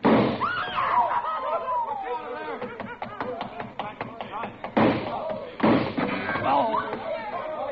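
Gunshot sound effects in a 1949 radio suspense drama: two sharp, loud bursts close together about midway, set amid tense spoken dialogue.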